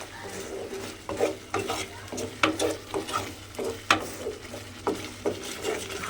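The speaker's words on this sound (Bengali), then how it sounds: "দিয়ে আবারও এটাকে খুব ভালোভাবে মিশিয়ে নিতে হবে।" A spoon stirs lentil dal with turmeric and salt in a cooking pot, giving repeated scraping clinks in an uneven rhythm over a faint steady sizzle, close by with no talking.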